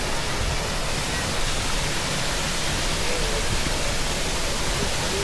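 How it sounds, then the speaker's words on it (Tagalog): Waterfall, a steady dense rushing roar of falling water, loud and unbroken throughout. "Wow, ang ganda ng falls."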